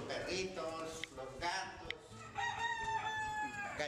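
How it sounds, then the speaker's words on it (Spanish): Roosters crowing and hens clucking among farm animals at a retablo artist's home workshop in Ayacucho, Peru; several drawn-out crows sound at moderate distance, overlapping one another with steady background noise. "gallinas y gallos de mi sobrino, lo tengo aquí"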